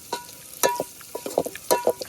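Onions frying in a pan over an open fire at a riverside cookout, with bursts of stirring and scraping against the pan over a soft sizzle, nearby and moderately loud.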